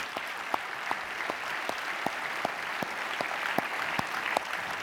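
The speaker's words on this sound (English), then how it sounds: "How about another round of applause for our patient's courage?" An audience applauds at the opening ceremony of a plastic surgery meeting, with steady sustained clapping from a large hall, even and moderately distant, and no voices on top.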